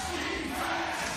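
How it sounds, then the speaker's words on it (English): Crowd of Sunrockers Shibuya fans chanting defense during a third-quarter B.League basketball game against the Yokohama B-Corsairs, a steady broad roar of many voices filling the arena without a break. "Now you can hear a chance of defense, and this is coming from the majority of the crowd here"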